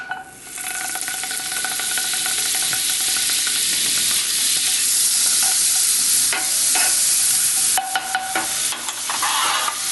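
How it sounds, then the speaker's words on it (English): Butter and egg for a pastrami omelet frying in a hot pan, a loud continuous sizzle and hiss with a few quick scrapes and clinks near the end, close and without speech. "So the pan is already hot, and you've got to put the butter in there and do this quickly."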